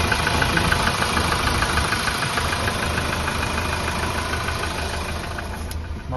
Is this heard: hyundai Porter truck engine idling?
yes